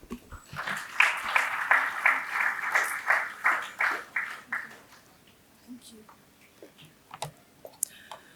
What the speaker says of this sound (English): Dr. Alpana Mishra, a round of applause for ma'am.